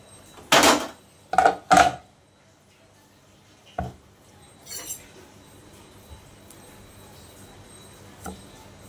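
Knife cutting into an ash gourd on a board, with three loud close chops early on, then a few sparser, quieter knocks and a faint clink in a quiet room.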